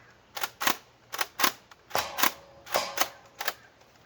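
A Nerf blaster with a catapult-style mechanism fires repeatedly at a range, giving a rhythmic string of sharp snapping clicks and thuds, about two per half second, close and clear with no speech.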